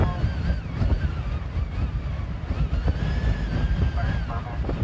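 Strong wind gusts roar across an outdoor microphone during a high-wind storm, a fluctuating broadband buffeting that swells and eases continuously.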